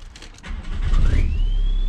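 A Volkswagen Golf 3 GT 110 is restarted: a brief rustle, then the engine catches and settles into a close, steady low rumble, with a thin rising whine following the start.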